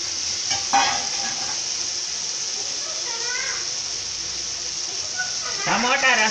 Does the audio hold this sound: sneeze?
no